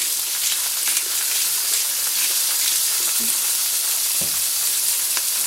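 Carrots and celery sizzle steadily in a hot pan, a continuous close frying crackle with a brief stir clatter partway through, and no voices.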